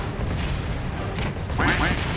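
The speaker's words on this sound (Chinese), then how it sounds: "炮弹不断落下，让这2条战壕成为了人间炼狱，完全没有安全的地方。" Mortar shells pound two trenches in a large-scale war video game, a dense rolling barrage of booming blasts with crackling debris, loud and continuous, with a brief voice fragment near the end.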